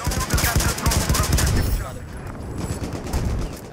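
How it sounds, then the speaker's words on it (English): Rapid enemy automatic gunfire in the online shooter Battlefield 4 on PS4, loud close bursts of shots in quick rhythm that ease slightly midway and pick up again, with talk mixed in. "I don't know where the guy is who's shooting me."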